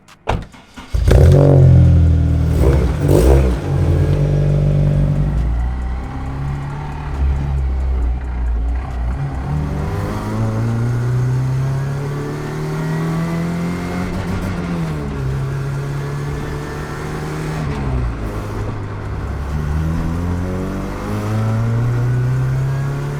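A K20-swapped Subaru BRZ/GT86 cranks and fires, then settles into a loud, close idle with several rising and falling revs that hold steady throughout, with no talking.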